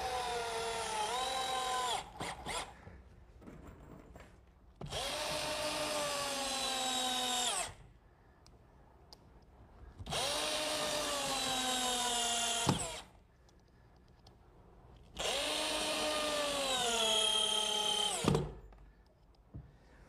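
A power drill drives 2.5 inch galvanized bugle head screws into boards, four loud whining bursts of a few seconds each, pitch sliding as each screw seats, separated by quiet pauses and small clicks.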